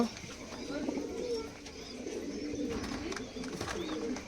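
Giribaz pigeons in a loft, several birds cooing in soft repeated throaty rolls close by, with faint rustling and distant talk in the background.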